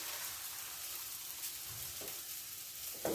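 Fish pieces fry in hot oil in a pan, a steady soft sizzle with a few brief stirring or turning clatters near the end.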